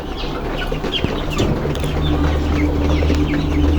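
Tiger-coloured broiler chickens about thirty days old cluck continuously in a poultry shed, many soft overlapping calls over a steady low background hum.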